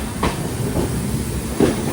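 Train running on the Konkan Railway during rain, a steady rumbling roll with repeated wheel clacks over the joints, continuous and fairly loud with no talk.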